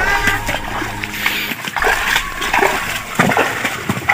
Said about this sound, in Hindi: वहां पर देखिए लड़का पानी निकाल रहा है